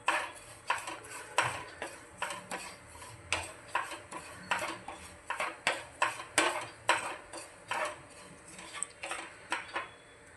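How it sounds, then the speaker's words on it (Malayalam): A spoon stirs cauliflower chutney in a pan, making quick close clinks and scrapes against metal in a busy, uneven rhythm, with a faint sizzle underneath. "നന്നായിട്ട് ഇളക്കുക"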